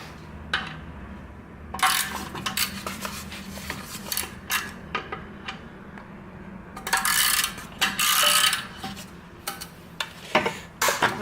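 Wrench work on the rusty, stuck bolts of an older Yamaha YZF-R exhaust catalytic converter, with irregular metallic clinks, ratcheting clicks and scrapes in close bursts against quiet pauses.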